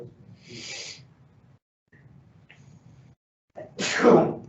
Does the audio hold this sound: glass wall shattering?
no